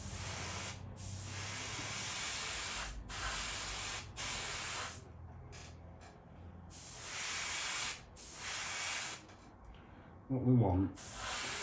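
An airbrush or spray can lays a light weathering coat onto a model railway mineral wagon, giving steady hissing bursts separated by short pauses, close and fairly loud, with a brief spoken phrase near the end.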